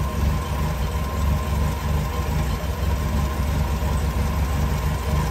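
The engine of a 1966 Triumph Spitfire idles steadily at close range, a low, even rumble with a constant hum above it and no talking.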